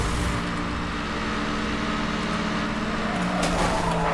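A car in the racing game Need for Speed: Hot Pursuit (2010) holds a steady, loud engine drone at top speed, with no talk.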